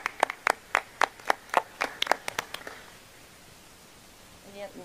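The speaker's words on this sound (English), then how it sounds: "I think you deserve a round of applause as well" A few people clap at a school board meeting, roughly a dozen distinct nearby hand claps over about three seconds that taper off into quiet room tone.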